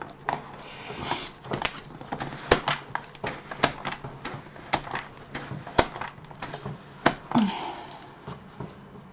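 Straight-edge scissors snip paper for a handmade vintage card, giving close, crisp clicks that come one after another in a slightly uneven rhythm over a quiet room, with a faint voice near the end.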